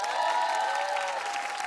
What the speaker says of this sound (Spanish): Aplausos para ellos.